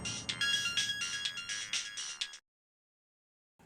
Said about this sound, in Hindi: पहली बार फोन आया था उसका